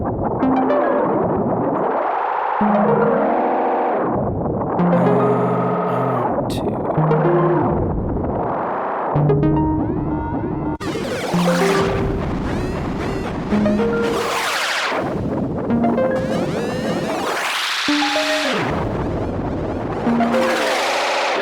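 Ghost delay pedal by Endorphines and Andrew Huang, repeats set to infinite, piles up swelling, pitch-shifting tonal washes and self-oscillating echoes, loud and continuous with dense cascading layers that thicken partway through.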